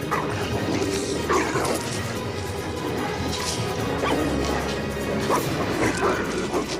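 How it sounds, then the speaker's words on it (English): The three-headed hellhound Cerberus barks, yelps and whimpers while being wrestled to the ground in a dramatized mythology documentary, with crashing struggle sounds under a dense, loud mix. "Hercules wrestles the dog to the ground."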